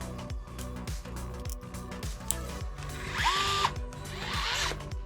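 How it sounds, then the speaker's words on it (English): A screw driven into a budget Amazon-build transmission with a ratcheting tool, heard as a steady run of rapid repeated clicks and whirring bursts close up, with a brief higher whine partway through. "we'll go ahead and put this screw in place"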